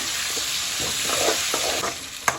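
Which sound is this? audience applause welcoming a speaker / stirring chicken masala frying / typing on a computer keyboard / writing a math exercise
stirring chicken masala frying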